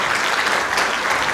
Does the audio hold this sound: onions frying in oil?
no